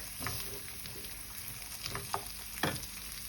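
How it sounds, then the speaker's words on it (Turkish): Onions and pomegranate seeds sauté in oil in a pan for an Azerbaijani pomegranate egg dish, giving a steady close sizzle with a few louder stirring scrapes and pops near the end. "Bunu da bir güzel kavuracağım."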